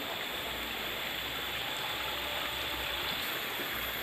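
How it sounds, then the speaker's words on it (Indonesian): River water spilling out to both sides of a stream where a barrier of bamboo stakes, set in the middle of the current, holds back debris coming from upstream. The water makes a steady, close rush that never breaks, and no one speaks. "Akhirnya airnya meluap ke samping-samping."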